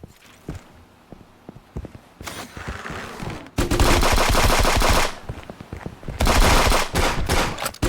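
Rapid bursts of automatic gunfire in a shooting video game, sparse shots at first then dense, loud sustained volleys with brief pauses between, no talk.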